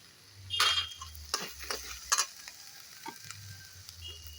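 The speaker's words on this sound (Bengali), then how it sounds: "একটু জল দিয়ে মশলাটা ভালোভাবে কষিয়ে নেবো" Spices for a snail curry, with chopped tomato, salt, turmeric and chilli powder, fry and sizzle in a pan while a spoon scrapes and stirs in irregular strokes, close and alone.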